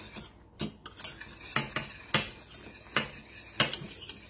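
A utensil stirs thickened canned pineapple juice in a pot for a cornflake and pineapple dessert, making a regular series of close metallic scrapes and clinks against the pot, about one every half second.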